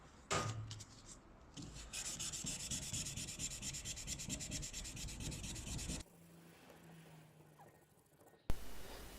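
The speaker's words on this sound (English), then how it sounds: "So here I am getting these initial scratches out on the 600 grit sandpaper" Hand sanding a forged San Mai knife blade on 600 grit sandpaper, brisk rhythmic scraping strokes close to the microphone for several seconds, then stopping abruptly and leaving quiet, ending with a sharp knock.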